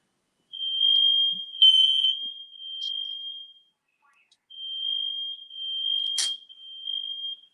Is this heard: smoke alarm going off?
yes